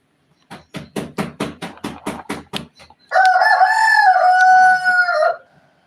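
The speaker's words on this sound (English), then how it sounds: "That's my chicken." A hen crows loudly and close by in one long, wavering call, preceded by a quick run of about ten sharp, rhythmic clucks.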